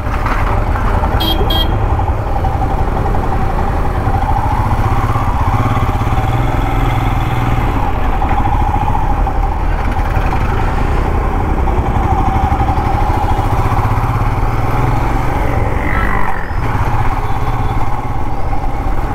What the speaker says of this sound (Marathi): सर्व्हिस जेव्हापासून गाडी करून आणले तेव्हापासून फायरिंगचा आवाज खूप मस्त येते